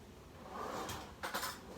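A kitchen drawer opened to grab a spoon while preparing bearded dragon and cricket food: a short sliding rumble followed by a light metallic clatter of cutlery, close and quiet.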